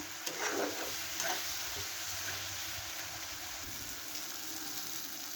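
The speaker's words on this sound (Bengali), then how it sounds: "সব মশলা একসঙ্গে মিশিয়ে ভালো করে একটু 2-3 মিনিট কষে নেব।" A mixed spice paste with cumin powder fries and is stirred in a pan, a faint steady sizzle with a couple of soft scrapes near the start and no voices.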